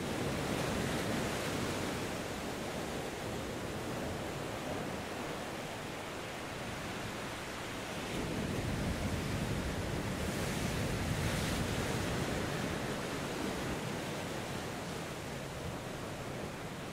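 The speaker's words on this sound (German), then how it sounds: "schön am Meer zu sitzen und aufs Meer hinaus zu gucken" Continuous surf of ocean waves at the seashore, a broad steady wash that swells again midway, with some wind noise and no voices.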